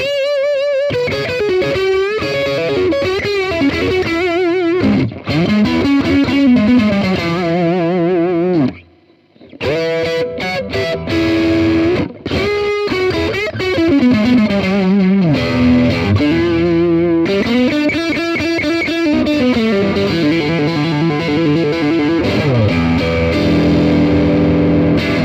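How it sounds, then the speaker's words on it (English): A distorted electric guitar through a Harley Benton Tube 15 amp plays chords and bending lead lines with heavy gain and chorus-like shimmer, loud and close with a brief pause midway. "let's hear it with a bit of gain."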